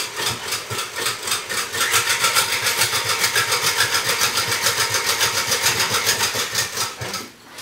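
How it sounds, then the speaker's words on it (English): A KitchenAid stand mixer beats angel food cake batter until frothy, a loud steady motor whir with fast rhythmic pulsing that holds for several seconds, then winds down at the end. "let the KitchenAid get started on that"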